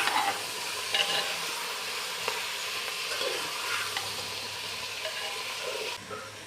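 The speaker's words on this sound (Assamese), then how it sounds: "লগতে ৰেড চিলি পাউডাৰ এয়া হালধি দি দিলো এতিয়া ভালদৰে লৰাই ল'ম মই" Jackfruit is stirred in a pan with red chili powder and turmeric, giving a continuous, even sizzle and hiss with soft scraping from the stirring throughout.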